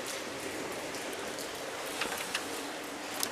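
Steady rain patters and hisses across surfaces, with a few louder individual drops landing close by.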